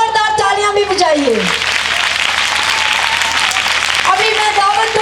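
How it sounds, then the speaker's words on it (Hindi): Loud applause from the congregation fills a church children's festival hall, dense clapping between bursts of someone speaking over a microphone at the start and end. "हाथ दिखाइए अपना और जोरदार तालियां भी बजाइए"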